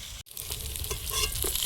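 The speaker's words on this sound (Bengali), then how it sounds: "মাছগুলো ভাজা হয়েছে, প্লেটে তুলে নেব।" Silver carp pieces fry in oil with a steady, moderately faint crackle and sizzle. The sound drops out briefly near the start, then carries on with light spattering pops and no speech.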